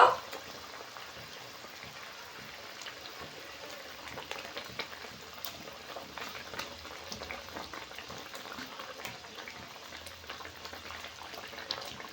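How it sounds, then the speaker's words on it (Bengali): Doi katla, a Bengali curd-based fish curry gravy, bubbles steadily in a pan, giving a continuous soft crackling simmer with small irregular pops close by and no talking. "এই দেখুন ঝোল কি সুন্দর ফুটে গেছে"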